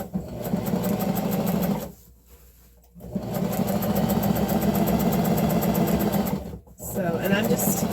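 A sewing machine runs up a seam on sheet fabric under the presser foot, its close, steady motor whir and rapid needle chatter broken by two short pauses before it starts again.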